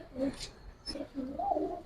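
Giribaz pigeons coo close by in a few soft, rounded phrases, with a brief higher chirp or rustle between them.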